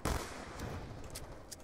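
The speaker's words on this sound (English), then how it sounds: "Just gonna blow through all the ammo in the M1911." M1911 pistol fire in Call of Duty Black Ops 2 Zombies, a sharp opening shot followed by a few sparse, fainter reports over a noisy game backdrop.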